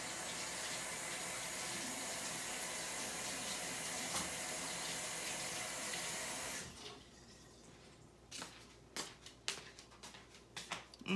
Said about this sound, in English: Let me wash my hands too.